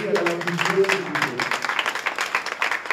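Audience applause at a Creole cultural event in Salazie, brisk clapping from a gathered crowd, briefly overlapped at the start by a voice, then clapping alone.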